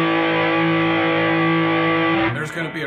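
A Caline Pure Sky overdrive pedal gives a thick, sustained overdriven guitar tone that rings out loudly and steadily, then breaks into a shorter choppy burst near the end.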